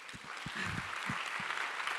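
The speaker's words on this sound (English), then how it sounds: "Maybe a round of applause for him." An auditorium audience applauds at a design school talk in Barcelona, a soft, steady wash of distant clapping with a few low thumps from the room.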